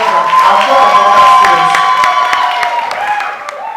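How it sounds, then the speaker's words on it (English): Audience at a Model United Nations summit clapping and cheering, a loud, dense crowd roar with scattered claps and shouts that slowly tapers off. "I need to hear some claps from the back"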